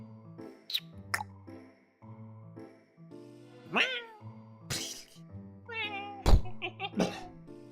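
Several cat meows in a video game, some drawn out and rising, over a plinking background melody, with a few soft thumps between them.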